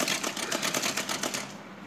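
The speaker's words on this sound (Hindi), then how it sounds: "ये देखिए बस इसको आप एंड तक पूरा सिलना है अच्छी तरह से।" A sewing machine runs a fast, steady rhythmic chatter as it stitches a plastic sack into a poly bag, loud and close throughout with no talking.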